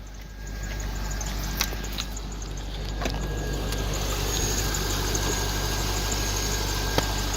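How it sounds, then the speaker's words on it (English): A 54,000-mile car's engine idling steadily and smoothly, a low continuous hum heard from nearby at moderate level with a few faint clicks, no talk. "Engine runs very well."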